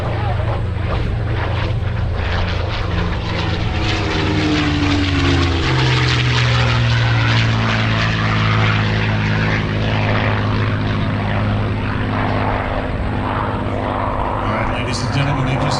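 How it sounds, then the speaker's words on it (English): A P-51 Mustang's piston engine and propeller roar loudly and steadily at an airshow in Orange County, New York, with the deep droning pitch shifting as the fighter passes, while an announcer talks over the sound. "Beautiful P-51."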